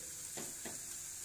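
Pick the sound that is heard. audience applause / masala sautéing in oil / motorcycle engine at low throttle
masala sautéing in oil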